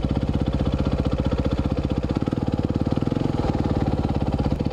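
A warmed-up enduro motorcycle engine idles steadily in the cold dark, a close, loud, even rapid chug with a brief deeper rev swell midway and no voices.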